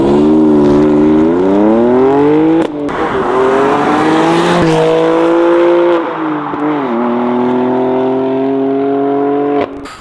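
BMW M4 with a Turner titanium dual 2.5-inch valved exhaust: loud, close engine revs rising and falling in several pulls, with brief breaks between gear changes and a throaty, sustained exhaust tone.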